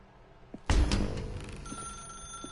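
A telephone rings in The Stanley Parable video game, a loud, close metallic bell trill that starts abruptly and rings on with a sustained tone.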